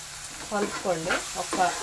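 Chili and turmeric powder are stirred into a raw mango curry in a pan, with a few short squeaky spoon scrapes over a soft sizzle.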